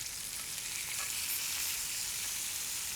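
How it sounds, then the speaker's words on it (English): Lamb chops in a ginger marinade fry in a pan, giving a steady, loud, close hiss and crackle with no voices. "that sizzle is because of the moisture from the marinade"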